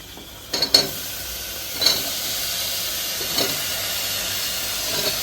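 Tinda gourds dropped into hot oil with tomato masala give a steady hiss and sizzle, with a few short bursts of spattering from the pan.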